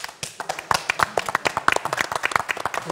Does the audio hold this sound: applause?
yes